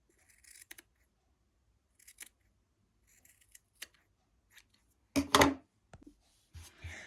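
Scissors snip through crochet yarn while a tassel is trimmed, sparse quiet cuts spaced across the stretch, with one louder, longer cluster of snipping toward the end, all close and without talk.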